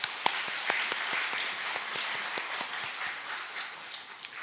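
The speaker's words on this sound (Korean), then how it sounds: "하나님께 영광의 박수 올려드리겠습니다" Applause from a church congregation after worship singing, a continuous wash of many clapping hands with a few sharper individual claps standing out, steady and then slowly easing toward the end.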